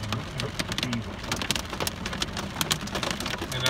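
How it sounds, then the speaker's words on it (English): Hail begins falling in a storm, with sharp, scattered impact clicks rattling over a steady bed of heavy rain. The hits sound close and irregular. "And now it starts to get a little bit of hail drop."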